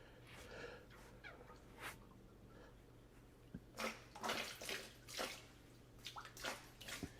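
Dark, rusty, muddy water drains out of an Oldsmobile 98 radiator in faint irregular splashes and gurgles, quiet and close, with a low steady hum underneath.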